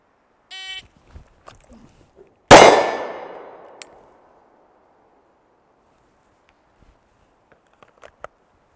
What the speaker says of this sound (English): huge advantage of shooting steel is you immediately know when you hit it